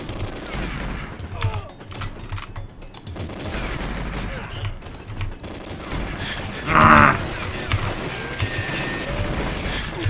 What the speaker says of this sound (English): Wow, they can shoot for quite a long time.